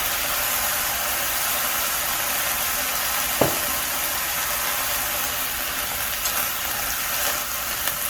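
Pork and garlic scapes stir-fry in oil with a loud, even hiss that runs the whole time, plus one sharp scrape from a utensil and a few faint clinks.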